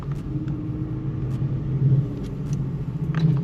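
A steady low engine rumble drones inside a tuned Infiniti Q50 driven hard on a canyon road, rising slightly at moments as if accelerating, with faint clicks and road noise.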